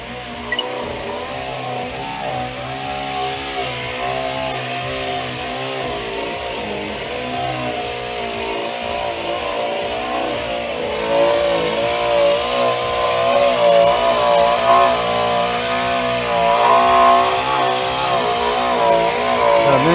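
A wood-processing machine in a lumber mill shaves darkened, weathered timber, making a steady, loud mechanical drone with a rough grinding texture that grows slightly louder partway through and carries on without talk.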